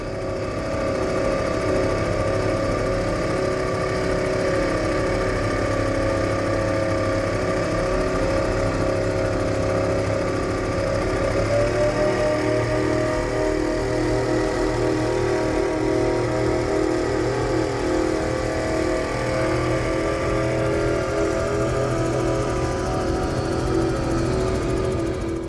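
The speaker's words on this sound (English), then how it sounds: "Let's listen to those engines roar." Powerful engines of a 42-foot Tiger powerboat roar continuously at high revs, a loud, sustained mechanical drone with shifting pitch throughout.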